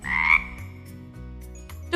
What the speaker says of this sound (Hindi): फ्रॉग यानी मेंढक